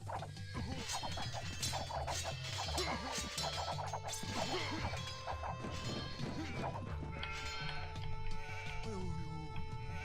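Sheep bleat repeatedly in Age of Empires 2, mixed with clanks, thuds and game effects over busy strategy-game music, no voice on top.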